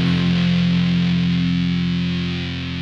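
A bass guitar played through a Tone Bender fuzz pedal sustains one thick, buzzy distorted note loudly on its own, slowly decaying near the end.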